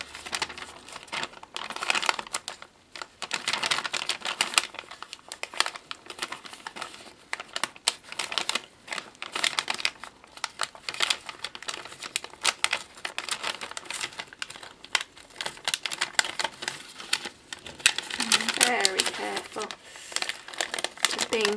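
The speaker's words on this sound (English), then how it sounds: "I'm just pulling off the backing and gotta be really careful pulling this off, because it's got very delicate pieces" Crinkly paper rustling and crackling from delicate vellum card cut-outs being peeled off their backing, continuous close handling noises, with a voice talking over parts of it.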